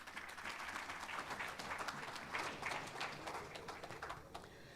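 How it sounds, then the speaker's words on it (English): Audience applause for a tech summit panel fills the room, a steady wash of many hands clapping at moderate, somewhat distant level throughout. "Another round of applause, please,"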